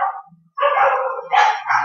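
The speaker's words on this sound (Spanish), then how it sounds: "Hola, los perritos," Dogs bark loudly and close by in a quick series of sharp barks, with a brief quiet gap after the first bark and the rest following in rapid succession.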